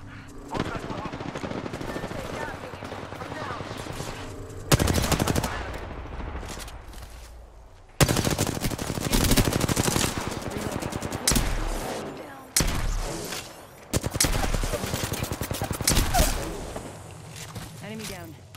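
Bursts of gunfire in the video game Apex Legends, with rapid automatic volleys and single shots in several loud clusters separated by brief pauses, mixed with game effects and spoken voices throughout.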